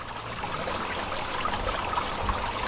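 Water trickles steadily from the Aquascape filter system of a backyard koi pond in autumn, a constant close splashing flow with no pauses.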